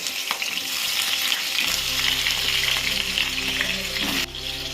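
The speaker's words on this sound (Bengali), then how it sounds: "আমি কেটে রাখা আলুগুলো দিয়ে দিলাম এগুলো আমি খুব ভালো করে ভেজে নেব" Cut potatoes drop into hot oil for a Kolkata-style soya chap biryani, setting off a loud close sizzle that holds steady over a low hum before briefly dropping away near the end.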